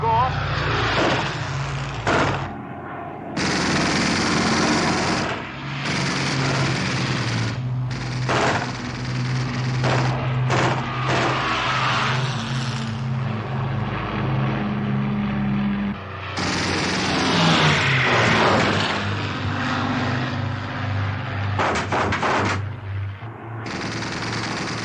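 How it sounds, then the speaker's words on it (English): Machine guns on British WW2 Spitfire fighter planes firing in short repeated bursts in a war movie battle scene, loud and dense, with aircraft engine drone running underneath throughout. "It's interesting to hear the British planes shooting in bursts"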